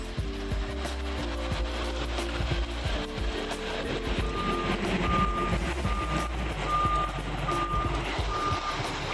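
A Megamas bus sounds steady, evenly spaced reversing beeps while parking beside another bus at a roadside restaurant stop, with a rumbling diesel engine and heavy rain noise underneath throughout.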